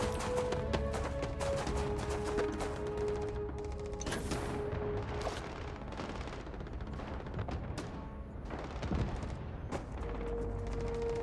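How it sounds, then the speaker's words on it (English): Gunfire in the video game Starfield, repeated bursts of shots and impacts over a dense game soundscape with music, fairly loud throughout. "Oh wait, I know that gunfire."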